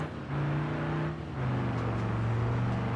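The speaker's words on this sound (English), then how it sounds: "I will say the flathead V8 sound though is amazing." Flathead V8 engine in the BeamNG driving game, a deep rumbling idle rising in two revs with a steady low engine drone, close and alone without speech.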